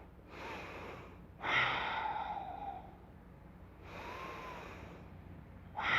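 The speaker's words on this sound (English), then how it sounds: "And let's go with a couple breaths." Slow, deep breaths in a yoga class, each long exhale a soft airy rush with quiet pauses between, close and gentle, with no talking.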